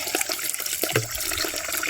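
Liquid organic fertilizer mixed with water is poured onto a young fruit tree in summer, making a steady, close splashing and gushing that runs continuously with no speech.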